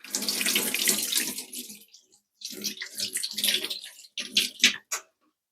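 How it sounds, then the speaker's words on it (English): Hands washed under a running kitchen tap, a loud close gush of water broken into several bursts with short pauses as hands move in and out of the stream, ending abruptly. "So I'm going to wash my hands."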